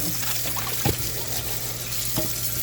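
Tap water runs steadily into a camper sink as food is rinsed clean by hand, a constant close splashing stream with a couple of brief louder splatters.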